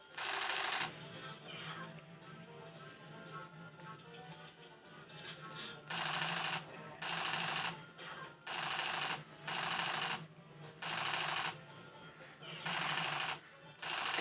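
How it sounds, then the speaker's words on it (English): Fully automatic weapon fire from a video game, used to shoot chickens, comes in loud, close bursts of about a second each, repeating at fairly regular intervals over a low steady hum. "I'm shooting chickens with a fully automatic weapon here."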